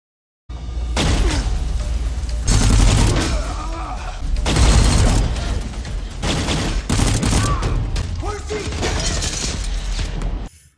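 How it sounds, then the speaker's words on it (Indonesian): Rapid bursts of gunfire from kidnappers storming a basement in a film scene, loud and close, coming in several dense volleys with short gaps between them. "komplotan penculik terus saja menembaki mereka dan Anders terkena tembakan di lengan."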